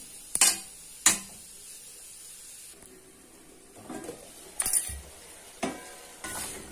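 Spicy green pepper chicken masala is stirred in a pan: a low sizzle runs underneath while a spoon scrapes and clatters against the metal in several distinct, uneven bursts.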